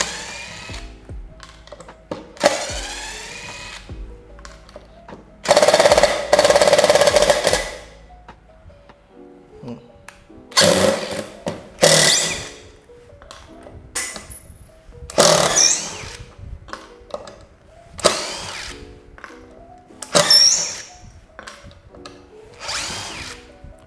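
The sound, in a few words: Dewalt DCF887 impact driver driving short screw at speed 1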